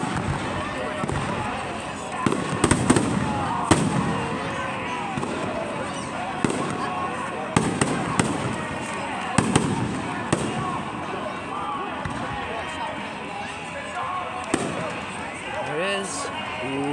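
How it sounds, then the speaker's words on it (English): Fireworks display bursting overhead at a spectacular 2024 show, with repeated sharp bangs and crackles over a steady rumbling wash, while young voices chatter and exclaim in the crowd throughout. "Look guys, those are the fireworks."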